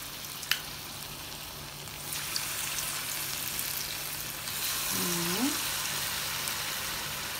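Steady sizzle of chicken frying in hot oil, a continuous crackling hiss throughout, with a brief clatter early on and a short squeak near the end.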